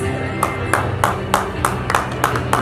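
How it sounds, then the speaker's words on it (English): Claps ring out at an award event in a steady rhythm of about eight sharp, evenly spaced hits over a low background hum, with no talk in between. "Can we have huge claps?"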